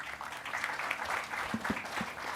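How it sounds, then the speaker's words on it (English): Applause from a conference audience at the 2024 Tamil Nadu Global Investors Meet fills a hall with a steady, dense patter of many hands, holding at an even level for the whole stretch with no talk. "Let's give a round of applause."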